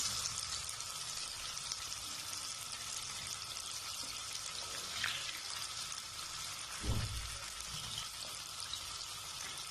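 Masala-coated fish pieces fry in hot oil with a steady, close sizzle and crackle throughout, plus one brief low thump partway through.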